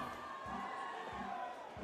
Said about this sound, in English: A lot of cheer, a lot of support from the grandstand.